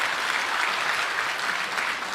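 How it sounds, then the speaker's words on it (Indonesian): Church congregation applauding, a dense continuous wash of many people clapping at an even level throughout, with no speech over it. "Tepuk tangan buat jemaat di tempat ini."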